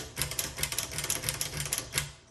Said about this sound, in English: you should be able to hear a click when you turn the handle